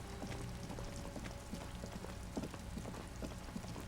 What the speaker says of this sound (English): What a great combination of noises. Rain plus ocean waves.